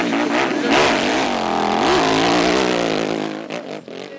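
A KTM 990 motorcycle engine screams and revs hard at a hill-climb event, loud and close, with rising and falling throttle surges before the sound fades slightly at the end.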